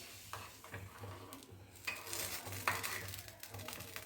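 Jaggery being stirred into boiling water to melt: soft repeated scraping strokes in a pan over faint bubbling and sizzling, close and quiet.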